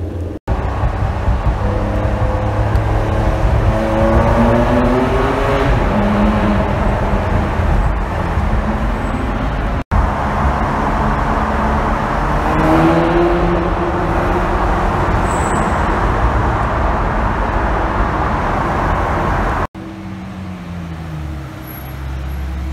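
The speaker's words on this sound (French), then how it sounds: "un V12 de dingue qui ronronne très très bien" A V12 hypercar engine runs loud and close in a continuous, deep, smooth purr, its pitch rising and falling gently across three back-to-back stretches.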